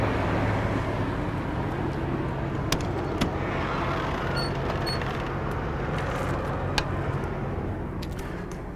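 A 2014 Tiffin Phaeton 40QB motorhome engine runs steadily at idle on a chilly day, a constant low rumble filling the whole stretch with faint sharp clicks and ticks on top.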